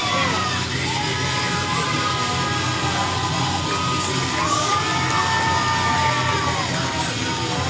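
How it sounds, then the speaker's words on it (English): A large crowd at an NWA Texoma Wrestling event cheers, yells and whoops loudly and continuously, a dense roar of many voices filling the arena. "But this is a loud crowd."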